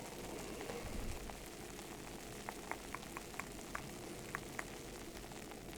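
Freshly and hard-poured Wisconsin beer fizzing and bubbling in a glass, a soft continuous carbonation hiss with small scattered pops and crackles, close and quiet.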